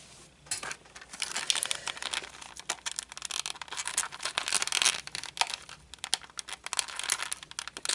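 Small silver and blue plastic panels are taped inside the holes of an R2D2 model dome, giving a busy run of close crinkling, tape tearing and light plastic clicks.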